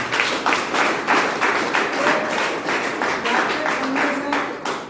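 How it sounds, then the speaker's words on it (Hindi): Sustained applause from a crowd at a meeting, dense clapping that swells and eases in waves over several seconds, with some voices faintly mixed in. "जोरदार तालियां"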